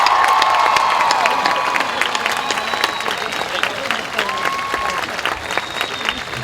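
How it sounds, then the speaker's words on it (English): A crowd at a high school commencement applauds loudly, many hands clapping together with some cheering and shouts, and faint talk and a brief tone in the background, the noise holding strong and steady throughout. "Let's give Dylan a nice round of applause"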